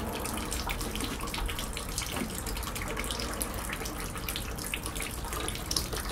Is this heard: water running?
yes